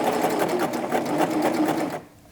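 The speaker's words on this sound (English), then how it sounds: "now I'm going to serge up to where my pins are at" A serger overlock machine stitches along a fabric edge up to where pins are placed, a fast steady whirring chatter, loud and close, that stops abruptly near the end.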